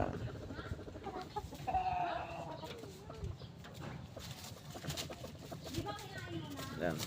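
A hen, a mother bird with one lame foot, clucks in short bursts amid other fowl noise, with someone talking over it close by.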